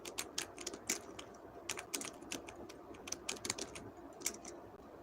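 Someone types on a computer keyboard, with quick irregular bursts of sharp key clicks and short pauses between them, close and fairly quiet, with no talking.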